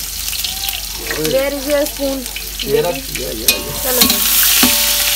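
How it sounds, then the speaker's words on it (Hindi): Onions sizzling and being stirred in a pan while browning for biryani, a steady frying hiss with scraping stirs as people talk nearby. "तो भाई ये हम ब्राउन करेंगे पहले प्याज"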